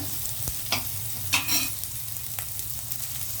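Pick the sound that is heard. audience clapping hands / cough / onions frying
onions frying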